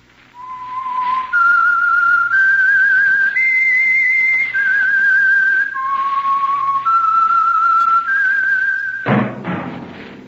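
A single person whistles the slow, clear theme tune of the 1946 radio show The Whistler, long held notes, close and loud, ending with a dull thump.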